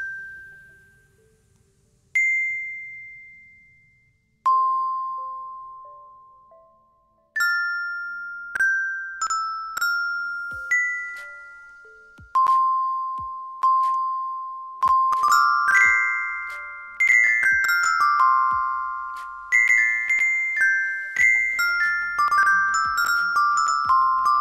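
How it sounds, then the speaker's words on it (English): Xylophone played in a psychedelic VR game, single bright struck notes ringing out and decaying, sparse at first then quickening into faster runs and overlapping tones, clear and alone. "Try playing the xylophone and see what happens to your visual perception."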